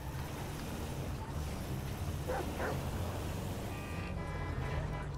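Dog barking in Grand Theft Auto V, a few short yips and barks around mid-clip over steady street and vehicle ambience of the game.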